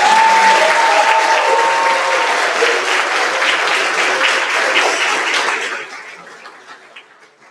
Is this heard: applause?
yes